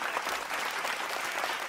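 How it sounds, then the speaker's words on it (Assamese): An audience at a children's game show claps loudly and evenly, a dense burst of applause that fills the brief moment without a pause. "সকলোৰে বাবে এটা হাত চাপৰি"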